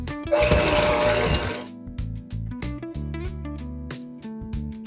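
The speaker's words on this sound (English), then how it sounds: "we're going to take a hand mixer and we're just going to mix this until fully blended and creamy" An electric hand mixer whirs loudly through a crushed pineapple mixture for about a second and a half. The motor then stops and starts in short bursts.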